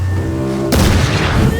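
Enemy gunfire in the Vampyr video game bursts in as a loud, close boom after a low sustained hum, followed by a dense, rumbling barrage that keeps going to the end.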